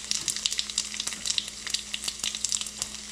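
Cumin seeds and red chilies sizzle in hot oil, a steady close crackling fry with small rapid pops and spits throughout, no voices.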